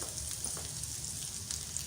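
Vegetables sizzle steadily in hot oil, a constant soft crackling hiss with no voices.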